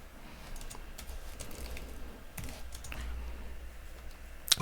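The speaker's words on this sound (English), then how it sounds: "Let me write that in." Quiet computer keyboard typing, scattered soft clicks and taps at irregular intervals over a low background hum, with a sharper click at the end.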